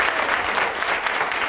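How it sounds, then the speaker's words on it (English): Big round of applause from an audience at a high school academy and scholarship banquet in Waco, continuous dense clapping filling the room at steady loudness. "please give them a big round of applause"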